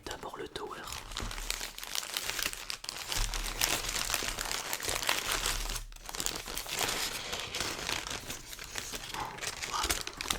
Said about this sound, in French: On va déballer d'abord le tower.